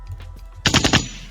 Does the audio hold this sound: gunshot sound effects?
yes